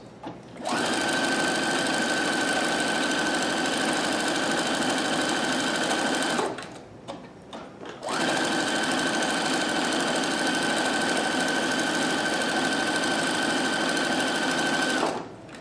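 A Husqvarna Viking Platinum Plus sewing and embroidery machine stitching in two long, steady, even runs of fast mechanical whirring, separated by a brief pause with small clicks, loud and close with no talking.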